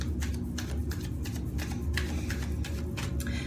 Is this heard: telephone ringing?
no